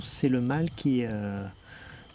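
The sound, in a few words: male cricket chirping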